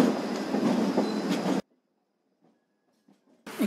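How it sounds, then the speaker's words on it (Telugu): A train running on a newly opened Aravalli–Bhimavaram Junction line, heard from aboard: a dense rolling rumble with faint clacks for about a second and a half. It cuts to near silence, then the rumble returns abruptly at the end. "ట్రైన్ ట్రాక్ మీద వెళ్ళాగా"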